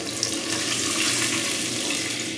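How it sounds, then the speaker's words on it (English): Four cups of water pour steadily into a pot of chicken-base stock for Italian wedding soup, a close, continuous rushing splash with no break. "We're gonna add that in along with 4 cups of water"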